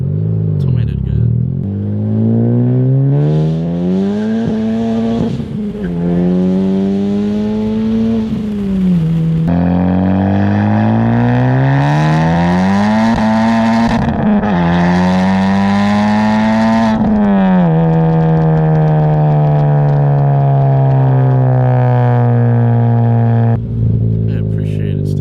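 A Honda FK8 Type R fitted with a Tomei Type D catless exhaust revs hard and close, its loud engine note climbing and falling through several sustained pulls before settling back toward idle.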